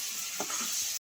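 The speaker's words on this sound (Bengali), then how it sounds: "দিয়ে একসঙ্গে ভালো করে মশলা কষিয়ে নেবো আলুর সঙ্গে।" Potatoes cook with masala and chopped tomato in a pan, making a soft, steady sizzle with a brief scrape of stirring before a short break near the end.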